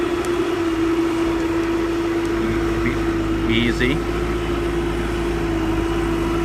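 A Bobcat skid-steer loader's engine drones steadily nearby as it loads a truck with planting material, a loud, even hum with a brief word spoken over it.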